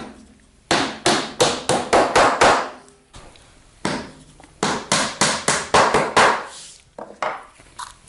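Short brads are hammered in to fasten a wooden router pattern to a pergola joist. Crisp, close hammer taps come in quick rhythmic bursts of about six to eight blows, separated by brief pauses.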